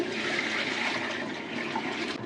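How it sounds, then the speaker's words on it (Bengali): Steady rush of water poured in a continuous stream into a cooking pot, loud and close, lasting a couple of seconds with no voices. "দিয়ে দিলাম পানি"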